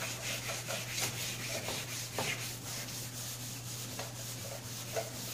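Light wet sanding with 500 grit sandpaper over orange peel on a Rust-Oleum painted golf cart body, soft repeated rubbing strokes in an uneven rhythm, close and fairly quiet with a low steady hum underneath.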